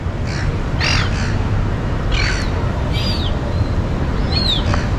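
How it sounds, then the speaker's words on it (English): Several birds call and squawk in short harsh bursts outdoors over a steady rumble of traffic or wind, the cries scattered and overlapping at moderate distance. "Birds everywhere."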